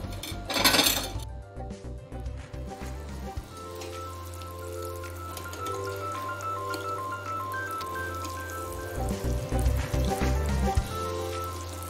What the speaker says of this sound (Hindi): चलिए, अब इसको कर लेते हैं फ्राई।